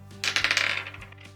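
Dice tumble onto a crafting table during a crochet stash-busting session, a brief rattling clatter of quick hard clicks that fades out after about a second, with no voices.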